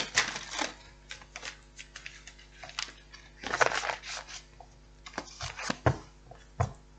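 Soft papery riffling and tapping of tarot cards being shuffled by hand, in irregular bursts with quiet pauses between, close by.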